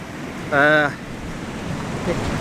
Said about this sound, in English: We've got big waves crashing in.